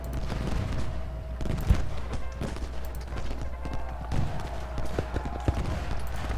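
Musket volleys and cannon fire crackle in the Civil War strategy video game Ultimate General: Gettysburg, a dense continuous rattle of distant shots with occasional louder booms, heard alone without talk.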